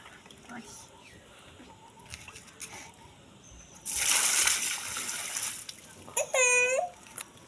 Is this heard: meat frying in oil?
no